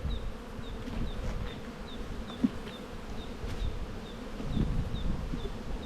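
Honeybees buzz around an open hive during an inspection. The hum is continuous and close, with a soft, wavering drone, and a couple of brief knocks fall near the middle and toward the end.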